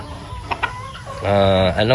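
Shamo chickens cluck and squawk nearby in short bursts, building into a louder, drawn-out call near the end, with a faint voice in the background.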